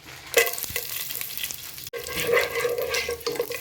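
Whole spices sizzle in hot ghee in a pan at the start of a Pakistani chicken curry, with stirring scrapes over a close, crackling fry and a brief pause midway.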